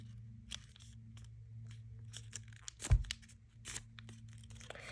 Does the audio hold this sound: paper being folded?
yes